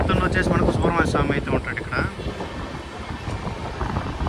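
A Kacheguda–Mangaluru weekly superfast express running, its steady low rumble carrying on under someone talking close by throughout.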